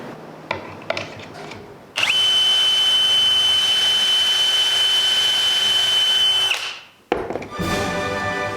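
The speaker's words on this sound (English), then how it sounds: "we'll turn it over and make our pocket screws to fasten everything together" A power drill drives pocket hole screws to join pre-built exterior window trim for a wilderness cabin, a steady high whine running loud and unbroken for about five seconds before winding down.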